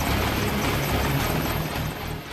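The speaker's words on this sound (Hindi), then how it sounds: "अपनी घातक वार की तकनीक की वजह से अपाचे हेलीकॉप्टर को उड़ता हुआ टैंक भी कहा जाता है।" An Apache attack helicopter flies nearby, its rotor giving a loud, continuous low thudding beat with a dense engine roar that eases off slightly toward the end.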